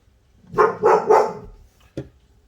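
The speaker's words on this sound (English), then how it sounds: "Apologies for the dog in the background." A dog barks three times in quick succession, fairly loud and close, then gives one short final yip after a pause, heard in a home kitchen while vanilla ice cream is made in a Ninja Creami.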